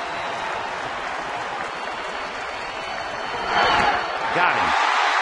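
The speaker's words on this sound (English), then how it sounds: "the crowd on its feet, trying to cheer Broxton to end it" A baseball crowd at a Dodgers home game rises and roars, urging the closer to finish the ninth inning, with steady loud cheering and applause that swells toward the end while a broadcaster talks over it.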